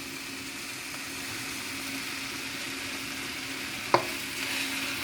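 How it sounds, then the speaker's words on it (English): Shrimp stir-fry noodles with dark soy sauce and sesame oil are stirred in a pan over a faint, steady sizzle, with one sharp utensil knock near the end and no talk. "I'm going to give that a little stir."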